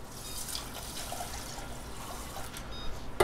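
Two cups of water poured into a pot holding one cup of rice, a continuous splashing pour lasting a few seconds, close and fairly even, with no talking.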